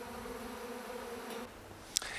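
Honeybees from a hive buzzing in a steady, close drone, with a brief sharp click near the end.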